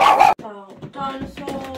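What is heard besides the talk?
dog barking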